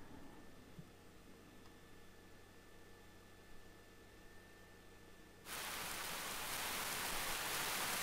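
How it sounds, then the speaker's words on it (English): Gentle rain in the Fate/EXTRA game on PSP. It begins as a faint, quiet hiss, then swells into a steady, loud wash of rainfall partway through with no voices. "A gentle rain begins to fall."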